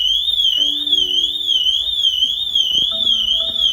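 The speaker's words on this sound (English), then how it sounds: "So now if I try to start the car, the Pandora alarm goes off." A Pandora aftermarket alarm sounding inside a BMW M3 F80 after an attempt to start the car without the tag, giving a loud, steady warbling siren tone that sweeps rhythmically up and down throughout, with faint low tones beneath.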